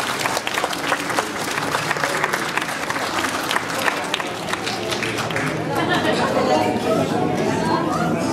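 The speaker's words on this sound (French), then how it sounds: "Vous pouvez les applaudir très fort." An audience at a parish gathering at the Bastion des Hospices de Beaune applauds costumed performers with dense, sustained clapping, mixed with crowd chatter and voices throughout.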